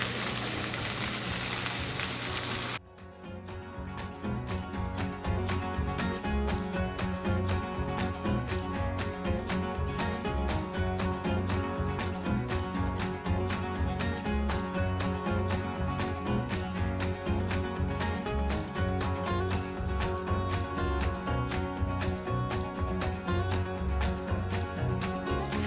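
Onions dropped into a hot pan for a spicy peanut butter chicken dinner, a brief hiss then a dense, steady sizzle that holds loud and even throughout, no voices.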